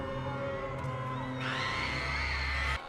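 Orphaned children in a horror film scream in fear as a possessed nun breaks down the door, a loud, sustained chorus of overlapping shrieks and yells over a low rumbling score, rising sharply partway through.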